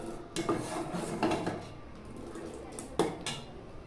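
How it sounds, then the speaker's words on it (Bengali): A pot of milk is moved from one stove burner to another, with a few metallic scrapes and clanks of cookware against the hob, close and fairly loud, with no talk. "দুধের এই হাঁড়িটা অন্য একটা ওভেনে দিয়ে দিচ্ছি, আর এই ওভেনে আমি ফ্রাই প্যানটা বসিয়ে দেবো"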